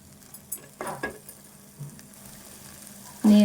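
Tomatoes softening in hot oil in a pan while making an okra fry, a quiet intermittent sizzle with spoon stirring and light clinks, ending in a sudden louder burst.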